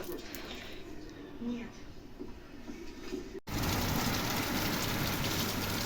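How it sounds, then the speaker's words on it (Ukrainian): Autumn rain starts falling outdoors, with drops blowing through a mesh screen. A soft hiss runs under someone talking, then jumps abruptly into a loud, dense, close downpour. "Дощ пустився"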